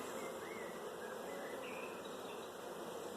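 Honey bees crawling over a hive frame at an apiary make a steady, dense, low buzzing hum that continues throughout with no voices.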